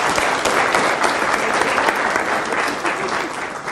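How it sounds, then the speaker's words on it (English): A live audience at a hypnosis demonstration bursts into sustained, loud applause, a thick, even wash of many hands clapping together with faint crowd murmur. "give me a round of applause."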